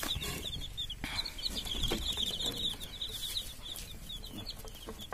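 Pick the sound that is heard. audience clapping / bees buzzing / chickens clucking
chickens clucking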